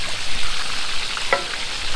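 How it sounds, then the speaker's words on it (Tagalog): Hot oil is poured over fish frying in a pan at a backyard cookout for sweet and sour fish, giving a steady close sizzle with a brief sharper crackle burst partway through. "we're gonna pour some hot oil sa cup ng fish natin"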